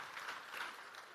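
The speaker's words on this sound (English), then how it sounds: "I think that is worthy of a round of applause" A round of applause from delegates at a CARICOM heads of government meeting, brief and faint, a soft steady wash of clapping in a large hall with no voices over it.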